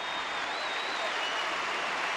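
Applause from an 8,000-strong crowd at a 1993 Australian NBL grand final basketball game, a steady dense wash of clapping held at an even level throughout, with no talk.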